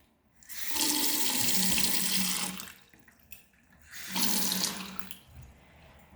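A bathroom faucet runs water into a sink in two bursts, a steady splashing hiss that stops briefly and then resumes.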